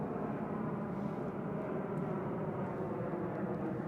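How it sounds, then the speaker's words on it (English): A fixed-wing airplane passes close overhead at night, a steady broad engine roar that holds loud and even throughout, with no voices. "Oh wow, that thing is flying really close, that airplane."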